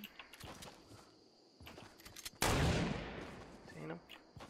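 Gunfire in Fortnite aimed at bushes: a few scattered shots and clicks, then one loud close blast with a long decaying tail, with faint speech in the background.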